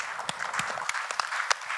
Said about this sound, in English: I think that answer deserves a really nice round of applause.